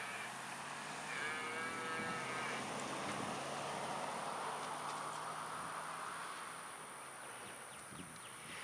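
Cattle on a drive in Matagorda, Texas give a low drawn-out moo, fairly distant, amid steady outdoor wind and rustling ambience.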